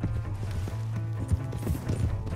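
A horse gallops in the video game Red Dead Redemption 2. Quick, rhythmic hoofbeats drum steadily over a low, droning background throughout.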